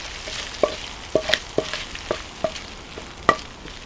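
Oxtails brown in a pan with a steady low sizzle, punctuated by about eight distinct sharp clinks and scrapes as the pieces are turned, close and alone.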